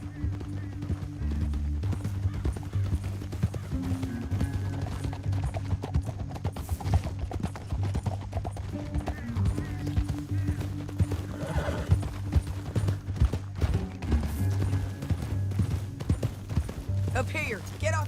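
Horse hooves clip-clop in a steady, continuous rhythm under a bed of music in Red Dead Redemption 2, with the clatter staying even and moderately loud throughout.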